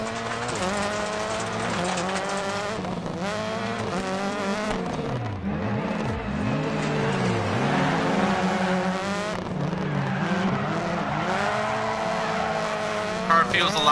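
A rallycross race car's engine revs and shifts continuously through a race, rising and falling whine with brief tire skids, loud and close, while someone talks over it.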